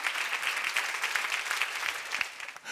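Applause rolls through a church seminar audience, a continuous burst of close, bright clapping that lasts a few seconds before dropping off.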